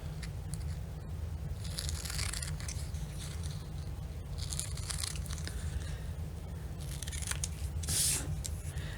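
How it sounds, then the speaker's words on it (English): Large scissors cutting fabric, the straight outer edges of a shape: repeated close crisp snips and papery crunching in irregular bursts over a low steady background rumble, with no voices. "I'm switching over to the bigger scissors."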